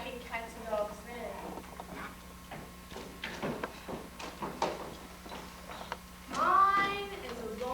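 A cat gives a single rising meow near the end, following a stretch of quiet tapping and shuffling sounds.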